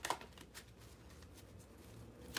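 Tarot cards shuffled by hand, a quick riffle with soft papery flutters and a few light taps. The sound is close and faint, with a sharper burst at the start and another at the end.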